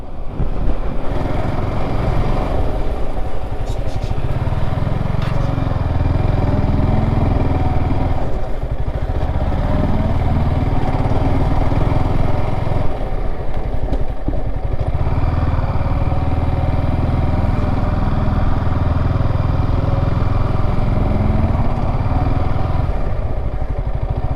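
A motorcycle engine drones steadily and loudly throughout a coastal ride through the Konkan region, with a rumbling, slightly clattering tone and faint wind noise.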